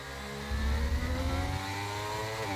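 A McLaren Formula racing car engine in a racing video game, a droning, rising engine note that climbs steadily in pitch as it accelerates, heard alone.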